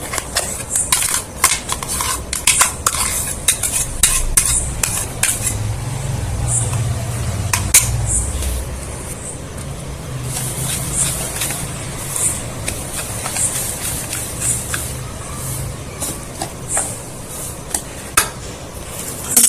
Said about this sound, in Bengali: তো সুজির মধ্যে আমগুলো দিয়ে দিচ্ছি।